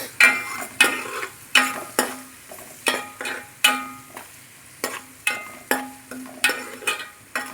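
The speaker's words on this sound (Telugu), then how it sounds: "గల్లుప్పు కూడా కొంచెం వేసుకుంటే తొందరగా ఉల్లిపాయలు ఎగుతాయి." Onions with turmeric and rock salt fry in hot oil, a steady sizzle broken by regular sharp scrapes and clinks of a spoon stirring against the pan, close and fairly quiet with no talking.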